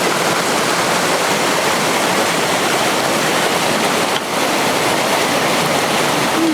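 A roughly 10-foot waterfall on the Jacks River roars in a constant, dense rush of falling water, loud and close, with no voices.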